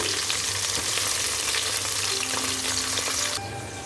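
Onion and green chilli fry in hot oil with a loud, dense, continuous sizzle close by, a few faint stirring scrapes beneath, and the hiss easing slightly at the very end.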